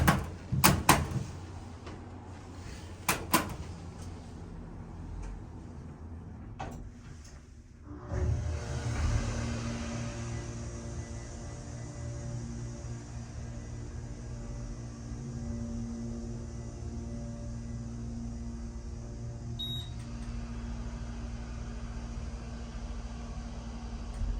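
Otis hydrofit elevator at Bayfront Landing in Erie, Pennsylvania: a few sharp clunks as the doors work, then a steady low hum and whir of the car riding up, faint and continuous.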